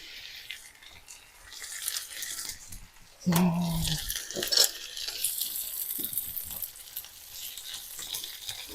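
Vegetables, including bell pepper, sizzle steadily in a hot pan for borscht, a continuous hiss with a brief louder burst and some clinking as they are stirred.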